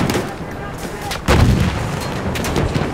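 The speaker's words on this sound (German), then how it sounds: "Da! Ein Maschinengewehr!" Machine gun fire in the World War I shooter game Battlefield 1, loud bursts of gunfire with a heavy blast partway through, mixed with battlefield noise and no clear talk.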